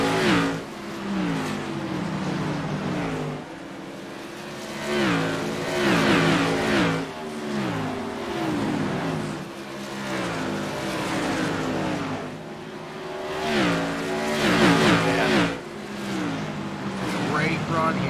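Modified race cars roar around the Bristol short track during a race, engines revving and rising and falling in pitch as the pack passes repeatedly, with a commentator talking over the loud, continuous racing noise.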